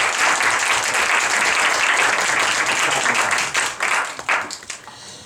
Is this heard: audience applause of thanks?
yes